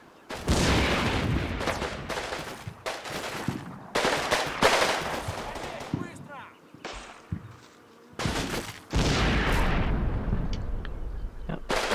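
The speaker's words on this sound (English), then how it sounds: "our Panther is shooting up that building" A Panther tank in the wargame Combat Mission: Red Thunder fires repeatedly at a building, loud booming shots and bursts of gunfire arriving in irregular clusters with brief quiet gaps between them.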